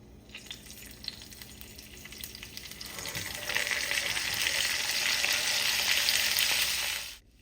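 Steady, loud sizzling of cauliflower steaks frying in a hot oiled pan, building after a few seconds and stopping abruptly at the end.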